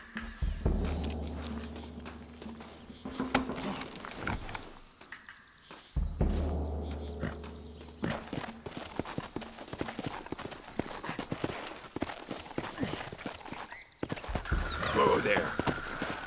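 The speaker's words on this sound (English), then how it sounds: "Looks like Carlos left us some horses." Horse hooves clip-clop at a steady walking pace in the Red Dead Redemption video game, joined by occasional neighs and whinnies, with voices and game ambience over the rhythmic hoofbeats.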